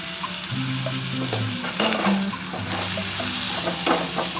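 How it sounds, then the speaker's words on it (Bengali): Prawns and pointed gourd frying in a pan with turmeric, chili powder, salt and ginger powder, a continuous close sizzle with occasional stirring scrapes, no voices. "এবার এগুলো একটু ভালো করে ভেজে নেব। ভালো করে ভেজে নিলাম।"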